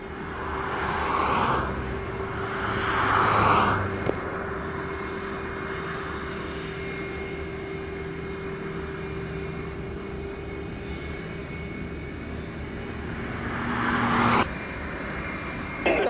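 Jet airliner, likely a Southwest flight, powering up for takeoff on runway 25 at Montego Bay, Jamaica, a steady loud engine roar with a whining tone, swelling at the start and again near the end.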